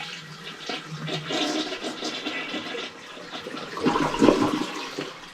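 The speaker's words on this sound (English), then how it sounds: "I'm an advocate of always holding the handle all the way down until all the water's gone. That way you get a full flush." A clogged toilet is flushed with its handle held down for a full flush, water gurgling and swirling steadily into the bowl and draining, close and moderately loud, with no talk.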